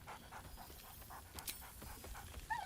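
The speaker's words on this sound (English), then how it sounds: "He whines." Scratch the dog from Baldur's Gate whimpers and pants quietly, a string of short, nasal whines repeating close by over low background game ambience.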